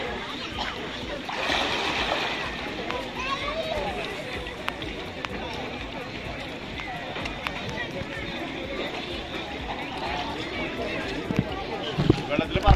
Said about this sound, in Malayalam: കുതിച്ചൊരൊറ്റ ചാട്ടം ചാടുക, വെള്ളത്തിൽ പറന്നു പോവുക.